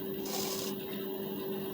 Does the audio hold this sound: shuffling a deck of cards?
no